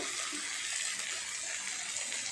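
Water poured into a pan of spices for a Bengali prawn, potato and pointed gourd curry, using the rinse from the spice bowl; a steady, close, even gushing pour with no talking.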